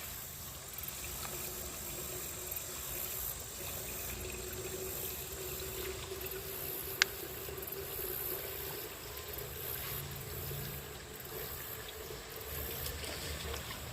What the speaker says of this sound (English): So I can filter this water